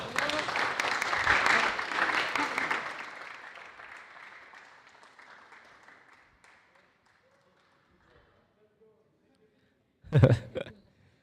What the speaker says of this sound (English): A round of applause in third place for Jad Fredge.